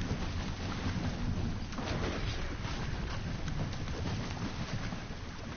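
A storm rages in the game Fortnite, a dense, roaring wash of rain-like hiss and low rumbling thunder that stays loud and steady throughout, with no talking.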